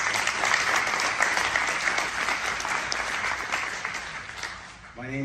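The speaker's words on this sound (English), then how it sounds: "I'm going to give a round of applause to Signature Bank and the Barnett Foundation" A crowd applauds steadily and loudly at a birthday tribute event, dense clapping holding for about five seconds before tapering off at the end.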